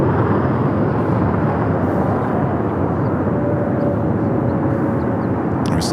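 An airliner at LAX airport roars with a broad, continuous jet rumble that stays loud and steady throughout, with no talking over it.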